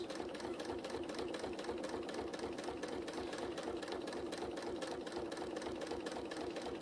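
A sewing machine fitted with a walking foot runs steadily while quilting with Rasant thread, a close, continuous rapid mechanical chatter at a slow, even feed that holds for the whole stretch without pause.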